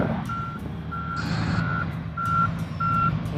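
Reversing beeps from a sand-levelling vehicle with a lowered front blade, regularly spaced and fairly close, sounding over a steady low engine rumble on a long desert endurance horse-racing track in Abu Dhabi.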